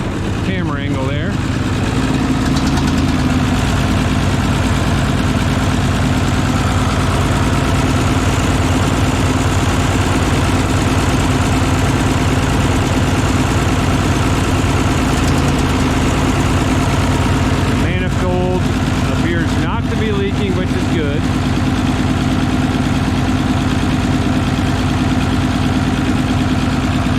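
An IH 1026 tractor engine idles steadily, a loud, even low-pitched rumble with a constant hum that carries alone throughout, with brief rattling bursts midway.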